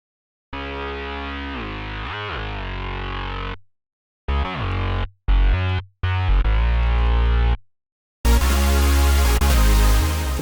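A gritty, distorted synth bass plays a repeating line in a remix of a Deltarune song, broken by short gaps and stops, then returns with a harsher, noisier texture near the end.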